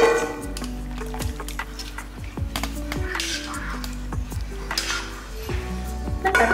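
A pot of tamarind fish curry is covered with a plate, giving a run of close metallic clinks and scrapes spread across the moment, with a faint voice in the background.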